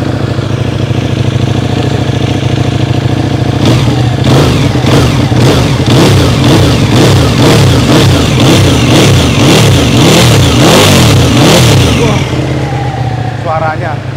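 A Ducati Panigale sportbike's exhaust sits at a loud, close idle, then is blipped through a rapid series of sharp throttle revs that rise and fall repeatedly before easing back to idle.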